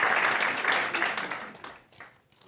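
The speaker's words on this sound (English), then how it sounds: "Please give another round of applause for Mel" An audience applauds at a class of 2024 presentation, a soft, distant wash of many hands clapping that gradually thins into a few scattered claps.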